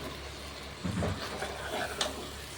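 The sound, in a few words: stirring and frying prawn biryani mixture in a pan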